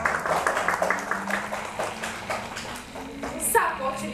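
A school audience claps for a performer in a bilingual class's Spanish-language staging of Pulgarcita, with fairly faint, scattered applause running under a voice announcing the cast.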